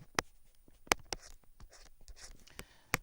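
Marker or chalk strokes on a board while working a math problem, a quiet series of sharp taps and short scratchy strokes in an irregular rhythm, close by with no talking.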